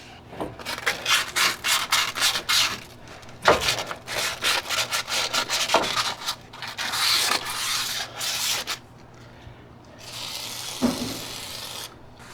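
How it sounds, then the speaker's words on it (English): Sandpaper rubbed by hand over a pitted Honda Pilot wheel hub, a series of quick rhythmic scratchy strokes, near and clear, with short pauses and a softer stretch of scrubbing near the end. "Might not be a bad idea to take a little sandpaper and just clean that."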